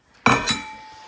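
Cat food bowls clink together twice in quick succession, a bright ringing ceramic or metal chime that fades slowly, close and alone.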